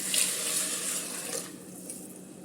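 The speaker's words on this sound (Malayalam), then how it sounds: "വെള്ളം ചേർത്ത് കൊടുക്കാം." Water is poured into a pot for vegetable rice, a steady close splashing gush that tapers off partway through, with no talk.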